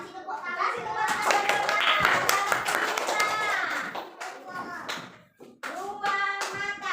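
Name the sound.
applause, children clapping hands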